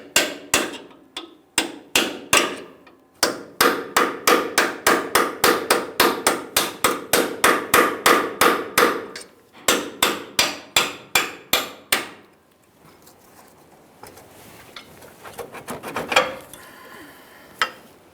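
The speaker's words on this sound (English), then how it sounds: "Use a hammer and punch if necessary." Dozens of sharp metallic hammer blows on a punch drive out front lower control arm bolts on a Ford F-150 in quick, steady runs with brief pauses, then fade into quieter scraping and a few scattered taps.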